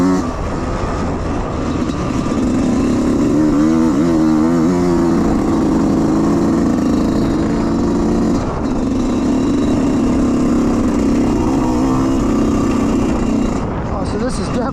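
A trail motorcycle climbs a hill on the Maniac Mountain race track, its engine droning loud and steady throughout with rising and falling pitch as it works up the slope, and a rider talks over it.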